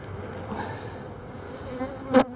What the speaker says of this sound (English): You can see a fair amount of bees in here.